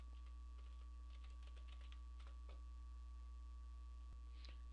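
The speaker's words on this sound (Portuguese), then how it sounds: "vou digitar um erro" Keys click in short irregular bursts as someone types on a computer keyboard into a word processor. The taps are soft and sit over a steady electrical hum, with no talking.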